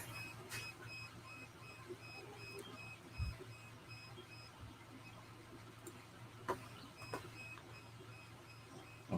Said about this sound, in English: I'm going to pause this printer here in a minute